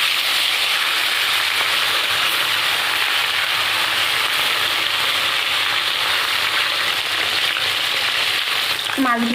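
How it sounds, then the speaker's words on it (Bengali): Puti fish frying in hot oil in a wok, giving a loud, dense, continuous sizzle that holds evenly from start to finish, close up and with no talking. "এবার আমি মাছগুলো ভেজে নেব"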